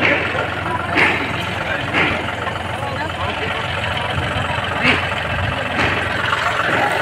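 A John Deere 5405 4x4 tractor engine runs steadily with a low continuous rumble, raised into revving bursts at a few moments, as people talk over it outdoors.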